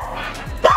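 A dog gives a quick bark or yip, close and fairly loud, over a busy background in a brief moment.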